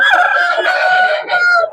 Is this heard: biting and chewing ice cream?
no